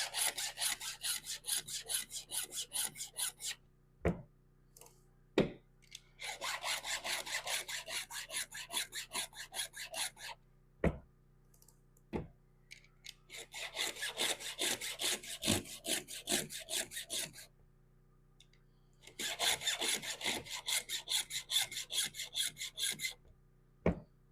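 Hand file strokes sharpening a chainsaw chain, rasping in steady rhythmic bursts of several seconds each, separated by short pauses with occasional sharp clicks, close and moderately loud.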